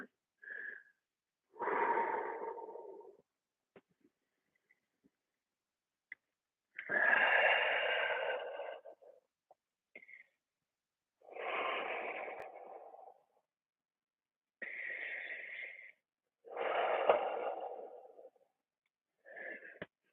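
Slow deep breaths during a qigong class, several long inhales and exhales separated by pauses of silence, close and clearly audible with no talking.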